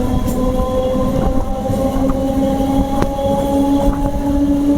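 A MEMU electric passenger train departing Dindigul on the Palani route toward Coimbatore gives a steady, close, continuous rail rumble with a sustained motor whine and occasional faint clanks.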